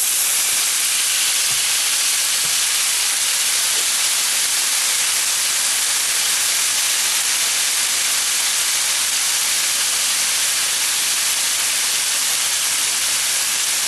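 Meat sizzling in a stone-coated skillet, a steady, dense hiss that holds evenly throughout with a few faint low knocks near the start and no talking.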